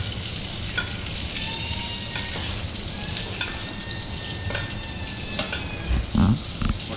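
Beef fillet searing in a hot pan after being turned, a steady close sizzle and crackle with soft scrapes and a few thumps from the pan near the end, with no voices.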